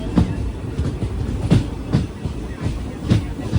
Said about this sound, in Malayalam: പന്ത്രണ്ട് 45 ട്രെയിൻ ഇതാ രാമനാഥപുരം റെയിൽവേ സ്റ്റേഷനിലേക്ക് എത്തുകയാണ്.